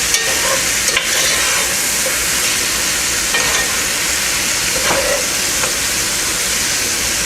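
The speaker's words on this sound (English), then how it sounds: "my seasoned meat, it's in the grease. You want to stir it, make sure that it gets browned on all sides" Seasoned squirrel meat fries loudly in hot grease in a pot, a steady close sizzle broken by occasional scrapes and knocks as the pieces are stirred.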